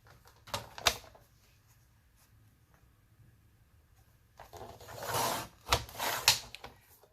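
Paper strips trimmed on a We R Memory Keepers 1-2-3 Punch Board: a couple of short, faint cutting clicks, a quiet pause, then a longer sliding trim stroke followed by a few sharper snaps.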